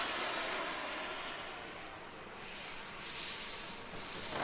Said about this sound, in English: And then it comes for a landing.